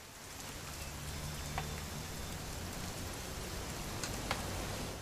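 Rain falling in What Remains of Edith Finch, a soft, steady patter of drops on surfaces with a couple of brief sharper ticks, fairly quiet and continuous, without talk.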